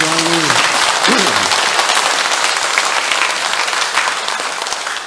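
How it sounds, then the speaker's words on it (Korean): A parish audience at a talk on Our Lady of Fatima breaks into loud, sustained clapping from a large crowd, dense and close, with a few voices rising briefly at the start before the applause carries on alone and slowly tapers. "자, 이러면 박수를 한번 쳐야죠"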